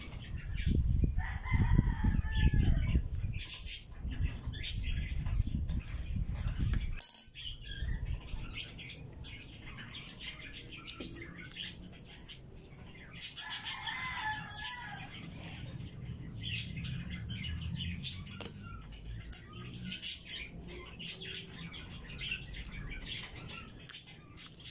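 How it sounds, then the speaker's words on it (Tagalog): Roosters crow repeatedly outdoors amid clucking chickens and other birds, with a steady background of ambient noise and occasional wing flaps. "Ang sarap pakinggan ng mga ibon namin."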